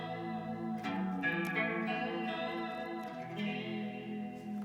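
An Enya Nova Go Sonic guitar is played through a chorus modulation effect: shimmering, wavering chords and picked notes ring out continuously with a swirling, slightly echoing character at moderate volume.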